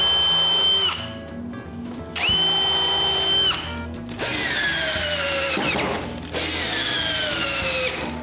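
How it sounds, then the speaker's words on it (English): A power drill drives screws into a wooden strip on a tall table saw rip fence, whirring in several separate bursts with short gaps, each run ending as the screw seats. "Before screwing the other side, I make sure the strip is square."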